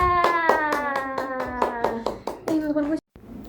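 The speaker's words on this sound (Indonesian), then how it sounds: "Tepuk tangan untuk Ifka" Schoolchildren in a classroom clap in rhythmic unison for a classmate, with young voices chanting along to the beat before the clapping stops abruptly.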